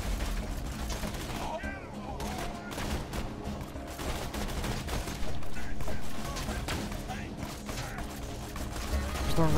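Rapid gunfire in Borderlands 2 fills the whole stretch as dense bursts of shots and clattering mechanisms, loud and near, with a rising swell toward the end.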